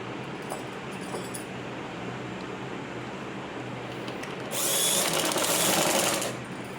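A sewing machine stitching a gathering pant: quiet fabric handling gives way to a close, buzzing whir of rapid stitching lasting about two seconds before stopping, with no voices.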